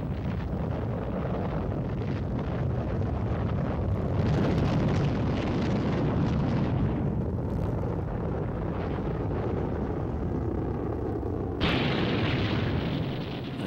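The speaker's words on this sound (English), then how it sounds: "I saw one go straight up in the air and explode." A 1950s test rocket explodes after launch, heard as a sustained roaring rumble with a swell of blast noise midway and a sharp brighter burst near the end, loud and continuous throughout.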